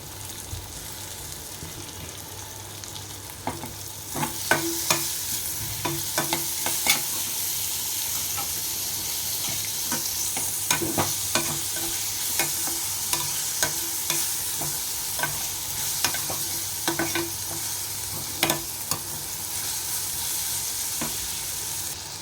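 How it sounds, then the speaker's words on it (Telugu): Onions and tomatoes fry in a pan with a steady sizzle, broken by repeated scraping and clinking as a utensil stirs them, close up and with no talking. "ఉల్లిపాయలు అయితే ఇంకా మగ్గిపోతున్నాయండి. ఇప్పుడు ఇందులో మగ్గాక టమాటోస్ అయితే వేసాను."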